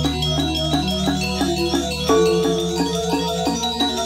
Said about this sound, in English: though gamelan music sounds like this.